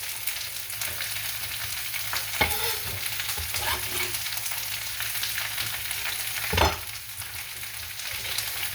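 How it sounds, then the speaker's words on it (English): Garlic and broccoli being stir-fried in a pan, with a steady close sizzle and repeated scraping stirs. A couple of sharper utensil knocks stand out, and no one speaks. "Now it's time to add the garlic to all the broccoli."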